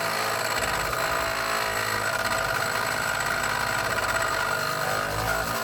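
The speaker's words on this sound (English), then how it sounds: "so I have this grinding wheel that's attached to this 2x4" A handheld grinding wheel mounted to a 2x4 grinding down a small ski bushing, a loud, steady whirring motor drone with a harsh grinding buzz, close and continuous without talk.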